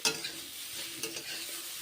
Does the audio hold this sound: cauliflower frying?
yes